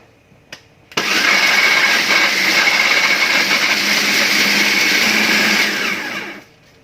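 An electric blender grinds shallots and spices for homemade chili sauce, starting abruptly after a small knock and running steadily at high speed for about five seconds before winding down.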